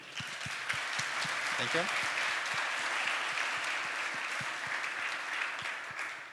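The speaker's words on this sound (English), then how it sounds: "Please make a last applause for him." A conference audience at PyData Amsterdam gives a thick, sustained round of applause for a speaker after a talk on AI agents, with a brief spoken thanks over the clapping.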